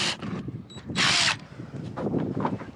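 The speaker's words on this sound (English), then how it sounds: "now we're reaming them out to 5/16." A power drill reams quarter-inch holes out to 5/16 inch in an aluminum RV roof, giving short bursts of whining bit noise with a brief loud grind in the middle, close up and outdoors.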